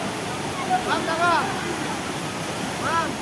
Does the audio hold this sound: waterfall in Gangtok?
yes